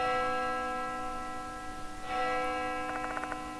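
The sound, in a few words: bell ringing in Spirit Hunter: Death Mark II video game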